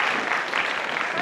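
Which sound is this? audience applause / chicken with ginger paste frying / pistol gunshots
audience applause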